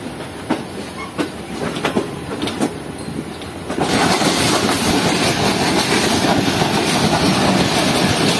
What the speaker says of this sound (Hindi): ये रेल का निकल रही है